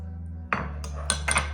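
A spoon scrapes and clinks against a bowl while cauliflower pesto salad with a pesto, mayo and yogurt dressing is stirred, giving three or four short knocks over a low steady hum.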